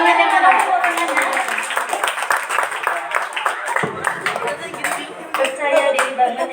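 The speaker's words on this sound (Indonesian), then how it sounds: "Tepuk tangannya mana?" A school audience claps for a student's speech, with quick, uneven hand claps close by, swelling and easing, and voices mixed in.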